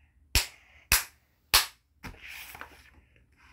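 Three sharp, evenly spaced hand claps snap out loud and near, each cleanly separated, then softer voice-like murmuring trails after.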